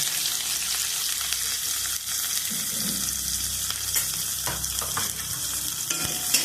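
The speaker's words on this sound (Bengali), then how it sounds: "আর পেঁয়াজটা লাল লাল করে ভেজে নিই।" Onion and crushed garlic with cumin fry in a pan with a steady, close broadband sizzle, broken by a few soft stirring scrapes.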